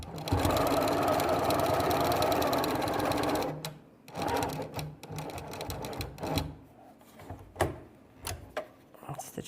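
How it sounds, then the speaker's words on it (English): A sewing machine runs steadily for about three seconds, stitching fabric for a gnome advent calendar, then stops; afterward come softer handling clicks and faint rustles. "Stitch the rest of the way around."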